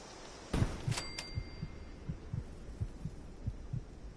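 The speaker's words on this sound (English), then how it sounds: "The whole heartbeat thing every 2 seconds." Heartbeat effect in Fallout 76: steady, low double-thumping beats repeating roughly every third of a second across the clip, fairly soft and alone, with a brief bright chime near the start.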